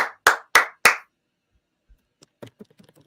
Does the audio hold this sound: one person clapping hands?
yes